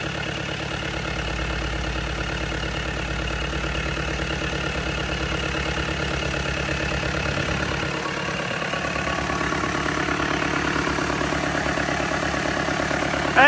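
A FAW 498 diesel engine idles smoothly and steadily, a close, even mechanical rumble that holds constant throughout without revving, and no voices are heard.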